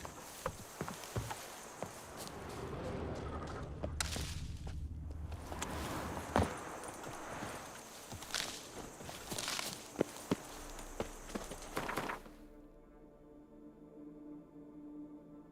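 Horse hooves clip-clopping in the video game The Witcher 3: Wild Hunt. A steady run of moderately close hoofbeats carries on for about twelve seconds among game ambience, with a few sharper knocks, and then fades out into quiet.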